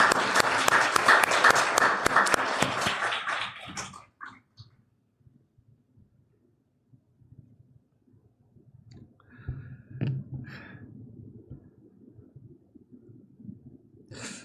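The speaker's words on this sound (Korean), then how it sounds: "우리 하나님께 영광의 박수 다시 한번." Church congregation applause at a healing testimony service, a dense burst of clapping for about four seconds that stops abruptly, followed by quiet room noise, shuffling and faint clicks.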